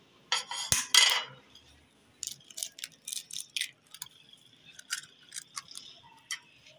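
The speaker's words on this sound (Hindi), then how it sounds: "अब हमें इसे अच्छे से मिक्स करेंगे" Cutlet mixture being mixed with egg and spices in a bowl, heard as a burst of clinking and scraping from a spoon against the dish, then a run of short, irregular metallic taps and rattles.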